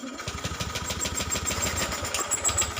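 A Honda Beat Street scooter-style motorcycle that has been stalling is cranked and sputters in a rapid, uneven chugging rhythm close by, with a thin high whine above, and no one speaking.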